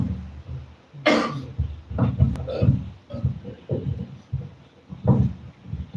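A sharp throat-clearing cough rings out, followed by low, gravelly throat sounds and short grunts.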